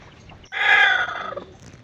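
A single loud chicken squawk rings out for about a second, close by, then fades into quiet.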